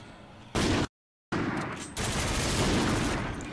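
Rapid, loud bursts of gunfire in a Call of Duty shooter game fill the whole stretch, broken by one short gap of silence before the shooting resumes in a dense, sustained rattle.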